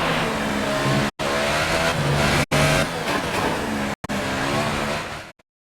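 F1 car engine from the F1 2018 racing game on a qualifying lap, a loud high-pitched continuous roar with revving gear shifts and tire squeal, broken by three short cuts to silence before ending abruptly.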